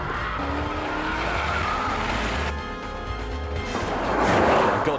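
A BMW 760Li or Mercedes S63 AMG luxury saloon skids with stability control off and rear differential locked, a loud sustained tire squeal over roaring engine that swells louder toward the end.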